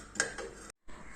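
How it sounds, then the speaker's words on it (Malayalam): Black cumin seeds being dry-roasted and stirred in a pan, heard as a brief clatter and scrape of utensil against metal, a short silent gap, then quieter stirring resuming nearby. "ഫസ്റ്റിൽ നമ്മൾ ഇതൊന്ന് നല്ലപോലെ നല്ലപോലെ വറുത്തെടുക്കാം."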